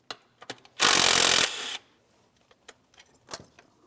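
Mechanic removing a 10 millimeter mounting bolt on a Ford Transit 250, a burst of power-tool whirring for under a second, surrounded by light metallic clicks, taps and handling noises.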